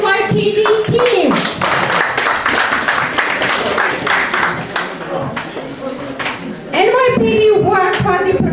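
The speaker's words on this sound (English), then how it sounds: "Please give a big round of applause for the whole NYPD team." An audience at a community celebration gives a round of applause for an NYPD team, many hands clapping in a steady patter, with a voice speaking over the clapping at the start and end.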